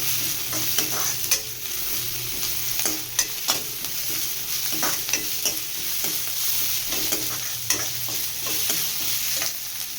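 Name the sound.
onions and ginger garlic paste frying in a pan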